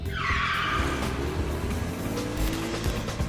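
A Ford Mustang GT doing a line-lock burnout, front wheels locked and rear wheels spinning: a loud, continuous tire screech and rumbling engine roar, close and unbroken throughout.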